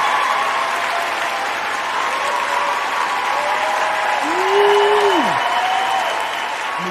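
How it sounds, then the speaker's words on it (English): Steady, sustained applause for a radio show guest fills the whole stretch as a dense crowd wash, with a faint sliding tone briefly rising over it midway. "Let me get a round of applause for you."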